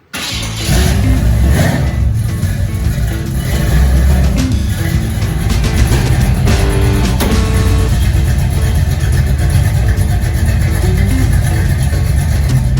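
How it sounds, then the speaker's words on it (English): A car engine starts and settles into a loud, close rumble, warming up and then pulling away under load, with rising revs and gear changes over a steady engine drone. "We're gonna warm the car up. We're gonna hit the road."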